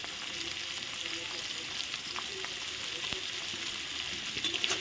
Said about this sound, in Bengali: পেঁয়াজটা আমি আলাদা খুন্তি দিয়েই ভাজবো।